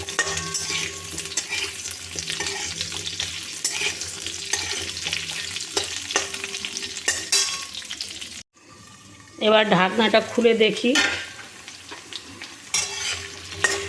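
Cut potatoes for pumpkin chhokka fry and sizzle in a pan under steady stirring, then after a brief pause a softer, spluttering phase follows with someone speaking briefly.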